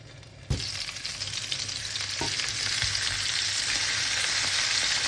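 Oxtail browning in a hot pan for kare-kare, a loud continuous sizzle that starts abruptly as the meat goes in, with a few soft knocks, and no voices.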